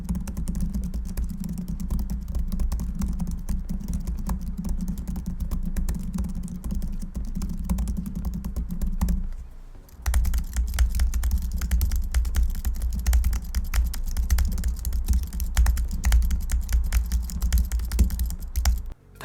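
Rapid, steady typing on the keys of an iPad Magic Keyboard produces close, continuous clacking with a brief pause midway, and no voices.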